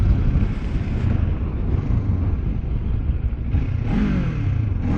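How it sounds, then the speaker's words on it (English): A 2024 Kawasaki Ninja 500 SE motorcycle engine droning while riding, loud and close under heavy wind rush, with revs rising and falling as the bike accelerates. "you can hear this bike"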